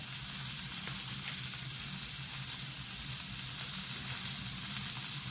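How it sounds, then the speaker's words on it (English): Continuous crackling sizzle of food frying in a hot pan, steady and fairly close, with no talking. "good thing about the frying sounds, it covers up the music"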